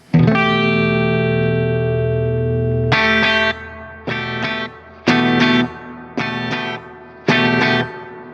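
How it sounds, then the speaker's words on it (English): An electric guitar chord rings out and sustains, then a Kmise tremolo pedal kicks in and chops the sound into a slow pulsing throb of loud bursts, the first burst after engaging slightly louder than before. "So when I engage it, you can hear there's a little bit of a volume spike."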